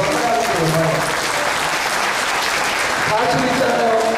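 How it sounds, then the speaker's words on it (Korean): Church congregation applauding during a Wednesday worship service, a steady dense wash of clapping running throughout, with faint voices mixed underneath. "이 박수는 우리가 받으면 안 돼요."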